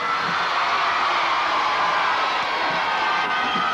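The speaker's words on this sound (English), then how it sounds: "Give them a little cheer." Outdoor crowd cheering for a team at a 1982 team games contest with canoe and raft events, a continuous wash of cheers, whoops and children's shouts, fairly loud and sustained throughout.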